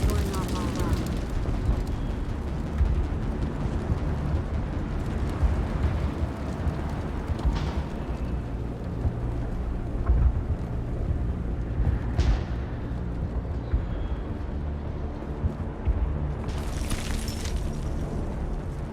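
Gunfire and explosions in Mass Effect Legendary Edition during a Geth attack on a colony: a constant roar of battle with scattered booming blasts, heavier bursts near the middle and end, and voices talking over the din.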